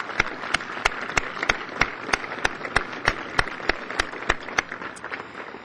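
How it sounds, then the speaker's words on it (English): A sparse, steady run of individual claps sounds at a formal commission meeting honoring the Division of Training, sharp evenly spaced hand strikes at moderate distance with little else beneath them. "Let's have a round of applause for our Division of Training"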